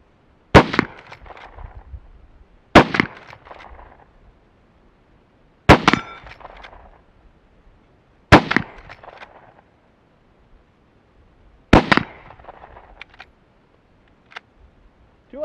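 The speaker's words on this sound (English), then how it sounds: "That's the first time I ever shot this gun with iron sights." Five sharp gunshots from a rifle fired with iron sights at steel targets, each crack followed by a ringing metallic clang, spaced a few seconds apart and heard alone outdoors.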